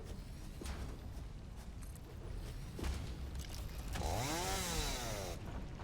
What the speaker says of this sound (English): Chainsaw's a little too much.